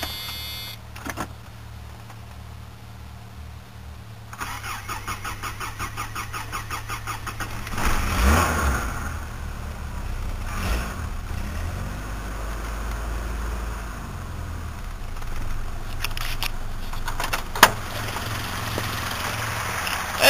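Car engine cranking and catching after a single pump of fuel, then settling into a steady running idle with a whining squeal, a louder surge midway and a sharp click near the end.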